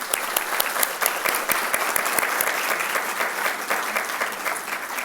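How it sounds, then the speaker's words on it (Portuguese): A conference audience breaks into dense, sustained applause, many hands clapping together at moderate loudness with scattered sharper claps standing out, no talking over it. "eu vou pedir uma palma de palmas para vocês"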